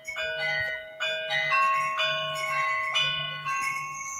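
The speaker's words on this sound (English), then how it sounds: "Those are the loudest wind chimes I've ever heard." Loud, bright metallic chimes ring in overlapping sustained tones, struck again roughly every second, with each cluster of notes hanging and decaying over the next; the source is wind chimes.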